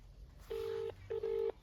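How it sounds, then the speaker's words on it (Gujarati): A telephone ringback tone sounds twice: a steady hum, a short pause, then a double pulse, heard over a phone line with faint background noise. "આ રિંગ જાય છે"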